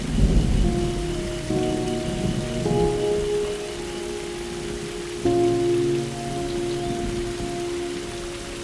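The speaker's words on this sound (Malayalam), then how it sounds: "നല്ല മഴയാ, കുറഞ്ഞിട്ട് പോ, അകത്തോട്ടിരിക്കാം." Heavy rain falls with deep thunder rumbling through it, surging louder at moments, while sustained tonal notes like a music score hum over the storm; no one speaks.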